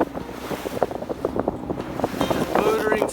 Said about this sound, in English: Just motoring straight into the wind.